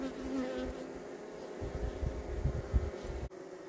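Honeybees buzzing steadily at a hive entrance, a dense close-up drone of many insects returning laden with pollen, continuous for a few seconds with no talk.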